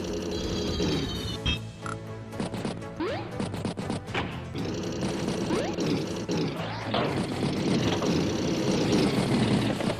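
A bomber unit moves in the Advance Wars game, with a dense, busy mix of synthesized game music, crashing impacts and engine-like drones running continuously and loudly.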